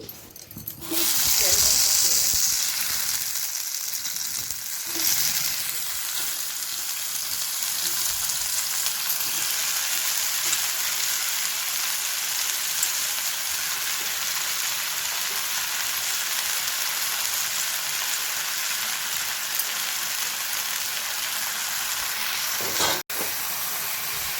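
Mushrooms fry in a little hot oil with turmeric on a tava for a mushroom curry. A steady, hissing sizzle holds throughout at moderate level, with a brief clatter near the start and a sharp click near the end.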